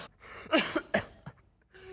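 Several sharp, close coughs in quick succession, with a faint breathy sound after them.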